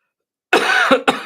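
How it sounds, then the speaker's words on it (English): A single person coughs close to the microphone: one harsh, sustained cough, then a short second burst, loud against silence. "Sorry about all the coughing."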